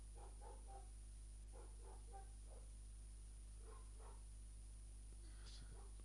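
A neighbour's dog barks in short bursts of two or three yaps, faint and distant, over a steady low hum with no speech.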